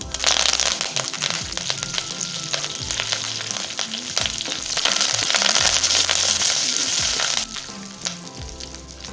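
Mustard seeds, urad dal, chana dal and curry leaves crackle and spit steadily in hot oil in a pan, a dense close sizzle with sharp popping bursts and a few clinks of a spoon, with no talking.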